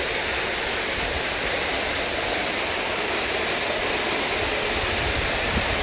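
A jungle waterfall roars in a steady, dense wash of rushing water, loud and unbroken throughout with no voices.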